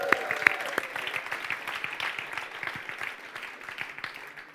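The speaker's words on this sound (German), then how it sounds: "grosser Applaus" An audience at a church talk on faith traditions gives applause, a brisk, crowded patter of individual claps that stays fairly steady and fades slightly, with a couple of sharp whistles near the start.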